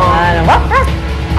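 Dogs yelp and bark in short high-pitched bursts, a couple of quick yips and a whining bark close up over a loud, busy background.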